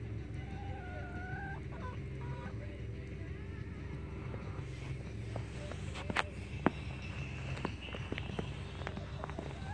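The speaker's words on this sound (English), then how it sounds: "Chickens." Chickens cluck quietly on snow-covered ground outdoors, with soft footsteps and a few sharper knocks and clatters close by over a steady low background hum.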